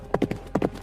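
Hooves of a horse clip-clopping in a brief sound effect for an audiobook scene at night: two quick clusters of hoof strikes, fairly close and clear, with no talking over them.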